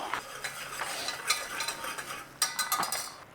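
Flour stirred and cooking in a pan for a sauce, giving a soft continuous scraping and faint sizzle with light clinks of the utensil, close and steady, with no talk.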